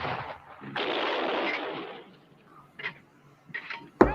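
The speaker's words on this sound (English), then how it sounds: "Swingfire, a wire-guided missile" A Swingfire wire-guided anti-tank missile fires with a loud rushing roar that builds and then fades, followed by a few fainter bursts and a sharp crack at the end, over a steady background rumble.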